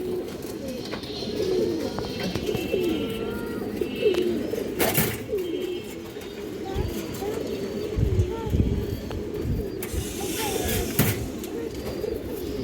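A pair of black pigeons cooing steadily at close range, low rolling calls repeating under ongoing talk, with a few sharp knocks and rustles mixed in.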